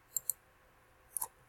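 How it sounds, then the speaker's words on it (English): Computer mouse clicks while selecting a presentation slide: two quick sharp clicks, a pause of nearly a second, then two more, crisp and close in near silence. "I'm going to click on the slide so that it highlights it"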